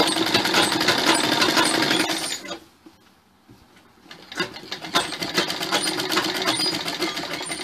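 A sewing machine stitches a line along a blouse strip in fast, dense bursts that break off into a brief pause midway, then resume steadily and fairly loud.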